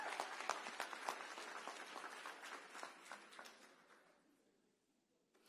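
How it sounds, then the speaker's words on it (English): Applause from an audience at a school closing celebration honoring an intern, dense clapping that holds steady for about four seconds and then fades away. "Let's give him another round of applause."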